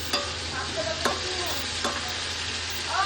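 Food cooking in a pan after a little water is added, a steady close sizzle with faint clinks of stirring now and then, no talk.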